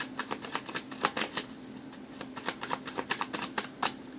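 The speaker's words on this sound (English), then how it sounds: "We have, well, too many cards, so let's shuffle again." Tarot cards being shuffled close by: a quick, uneven run of light papery snaps and flicks that carries on throughout, fairly soft and with no talk.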